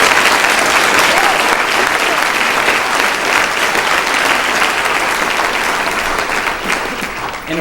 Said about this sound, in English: How about one last round of applause